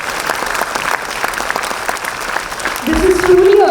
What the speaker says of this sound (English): Let's give them a huge round of applause and let's keep it going